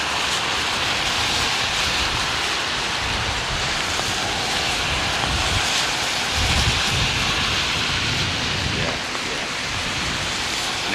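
An airliner landing at London Heathrow with thrust reversers deployed, a broad sustained roar of jet noise that stays loud and dense throughout with low rumbling swells.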